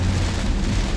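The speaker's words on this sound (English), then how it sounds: "We still have heavy rain, a few flashes of lightning, maybe some gusty winds." Heavy rain pours steadily during a thunderstorm in Indiana, forming a dense, continuous roar with low rumbling underneath and no speech.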